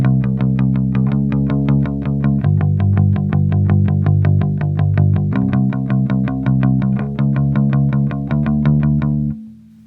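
A bass guitar fitted with boiled strings is picked in a fast, steady run of even notes, loud and clean for nearly ten seconds before ringing out, with no one speaking.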